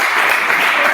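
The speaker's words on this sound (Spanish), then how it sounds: "Un aplauso para el público" An audience at a talk on women in sport claps in a short, dense, loud burst of applause with no break and no talking over it.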